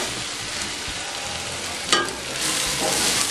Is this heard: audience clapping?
no